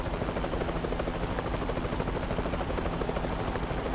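A helicopter flies through a truck-driving video game, its steady rotor thrum and engine drone loud and continuous throughout, with no talk over it.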